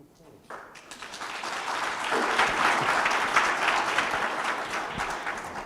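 Audience applause at a money management workshop and expo, starting soft and swelling into a steady, dense wash of clapping that holds loud to the end, with some voices mixed in.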